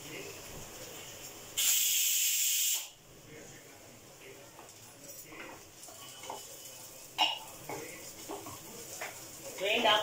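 Onions and cashews frying in a pan for an Indian matar pulao. A loud burst of sizzling hiss lasts about a second, then quieter frying crackle continues with occasional clinks of a utensil.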